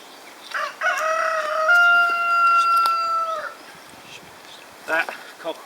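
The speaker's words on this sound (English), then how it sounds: "That cockerel in the background is called Satan" A cockerel named Satan crows loudly in a long, drawn-out call on a garden plot, followed by a few shorter squawks near the end.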